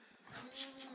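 A hound dog gives a short whimpering yip close by on a bumpy road next to a new quad, quick and fairly faint over a low steady hum.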